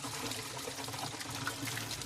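Water from a natural spring pours steadily into a container in a continuous trickling, splashing stream, close and fairly soft.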